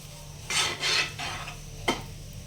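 A spoon stirs and scrapes moong dal kachori filling as it dry-fries in a pan. A few rasping strokes come in short bursts, then a single sharp clink, all fairly quiet.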